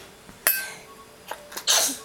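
A single sneeze bursts out sharply, followed by a couple of smaller breathy sounds and another quick exhale, close by in a quiet room.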